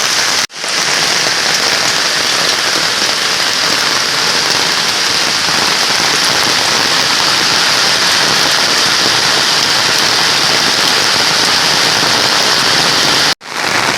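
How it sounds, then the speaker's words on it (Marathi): Heavy monsoon rain pours down in the Konkan countryside, a dense, loud, unbroken hiss of drops on surfaces that holds steady throughout with no voices. "आता जोरदार पावसाला सुरुवात झाली आहे."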